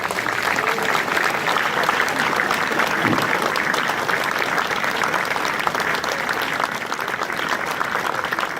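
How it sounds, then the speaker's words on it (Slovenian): Sustained, dense applause from an audience at an outdoor anniversary commemoration, steady and loud throughout with no pauses. "Prosim, en aplavz."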